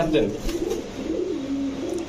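Low, throaty pigeon cooing rolls along in soft repeated murmurs, close by, with faint background noise.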